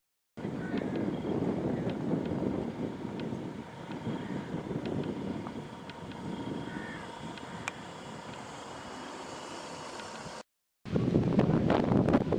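Wind blows across an outdoor camping field at a tarp and tent gathering, a steady rumbling buffet on the microphone that cuts out briefly near the end before returning stronger.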